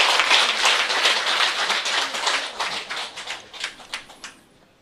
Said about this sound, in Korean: 네, 박수 주시기 바랍니다.